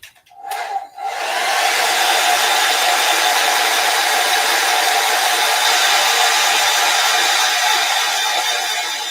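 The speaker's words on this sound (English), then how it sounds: "So I'm going to dry it with a towel, with the blow dryer really quick." After a brief click and rustle, a hair dryer starts up and blows in a loud, steady whir close by.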